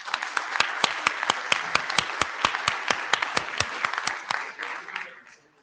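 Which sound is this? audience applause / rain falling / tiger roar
audience applause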